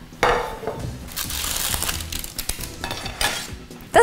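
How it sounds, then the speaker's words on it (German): A plate is picked up and set down in a home kitchen while lahmacun is being served, giving several close ceramic clinks and knocks amid light rustling. "Ich nehme mir mal so einen hübschen Teller."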